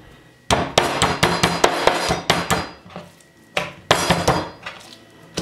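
Repeated heavy thuds of a hammer pounding moose meat on a board, in rapid bursts with a short pause midway, close and loud.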